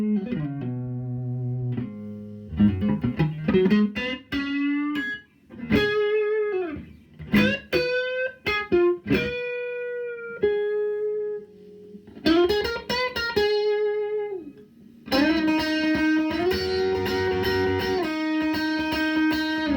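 A clean electric guitar played on an Xotic RV-60 neck pickup rings out single notes, slides and chords with sustained tones and short pauses, heard alone.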